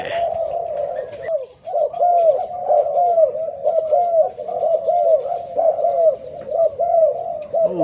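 A dove coos repeatedly in a steady rhythmic series, close and fairly loud, with a faint background hum and no talking.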